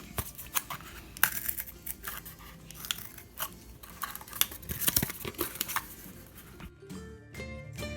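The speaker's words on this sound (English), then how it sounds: "Just cut a few shapes out and you can make a sculpture from the shapes that you've cut out." Paper card being snipped into circles, squares and rectangles with scissors, a run of close, crisp cuts and crunches in uneven rhythm for most of the time, ending in a brief faint tonal background.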